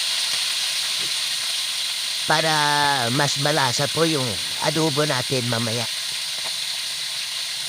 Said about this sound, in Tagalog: iprito ko lang bagya yung ah, karne ng baboy na gagamitin natin